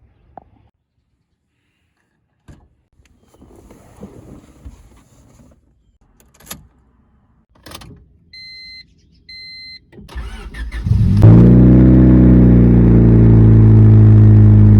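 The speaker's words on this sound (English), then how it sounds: "I'm going to go ahead and start the vehicle" A Honda Civic is started after quiet door and cabin clicks and a few warning beeps. The engine cranks, catches and settles into a loud, steady idle close by.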